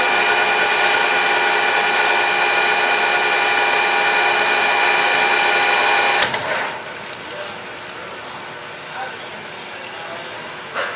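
A metal lathe facing and turning down a steel screw jack cap gives a steady whirring, cutting hum with a faint tonal whine, which drops abruptly to a quieter running drone around the sixth second.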